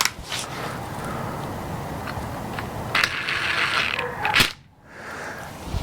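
A ratchet tightens a bolt on a Troy-Bilt rototiller with a close, continuous run of rapid pawl clicks, briefly louder near the end before stopping.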